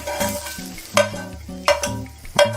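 Onion browning in a pan for Swedish meatballs, sizzling softly while a utensil scrapes and stirs in a few sharp bursts, all beneath steady background music.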